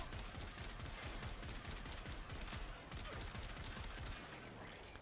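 Komorex rifle from the Warframe video game firing continuously in normal mode, a dense rapid stream of punchy gunfire shots with a steady loud level and no talking.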